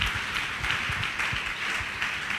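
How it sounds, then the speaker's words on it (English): Church congregation clapping during a service, a steady, fairly soft wash of hands with faint rhythmic low thumps underneath, continuing evenly for a couple of seconds. "give the Lord a better clap of him"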